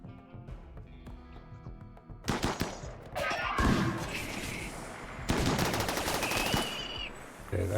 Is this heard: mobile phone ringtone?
no